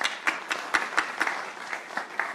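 Audience members at a chamber of commerce candidate forum clap in a sparse, fairly quiet burst, individual claps landing a fraction of a second apart in a loose rhythm.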